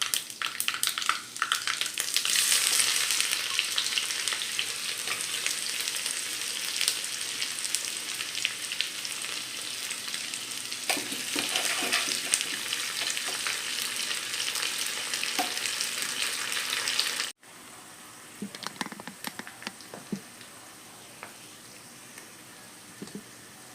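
Onions sizzle and fry steadily in a pan for a soy chunk curry, with occasional stirring scrapes; the frying is loud and dense early on, then drops to a quieter sizzle with a few clinks near the end.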